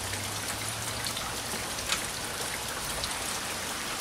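Steady rain pours down and runs along a rain gutter on a wet day in Georgia, a constant close hiss of water and spatter without pauses or voices.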